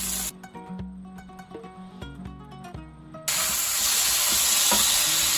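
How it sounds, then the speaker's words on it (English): Halved cherry tomatoes tumble into a pan of cooking mushrooms with a few stirring clatters, then a loud, steady sizzle and hiss of frying takes over and holds to the end, close and with no voices. "We are going to go on and add our cherry tomatoes in that we cut into half"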